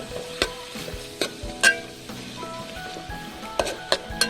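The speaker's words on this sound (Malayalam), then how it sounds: "നമ്മളിതിൻ്റെ നെയ്യ് തന്നെ ഉപയോഗിച്ചാണ് ഈ സവോള വഴറ്റിയെടുക്കുന്നത്." Chopped onion sautés in rendered pork fat for a pork curry, with a steady close sizzle. Sharp clinks and scrapes from stirring in the pan come at irregular intervals.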